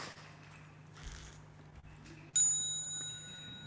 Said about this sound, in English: we can ring the bells together, Sam, and see how they sound.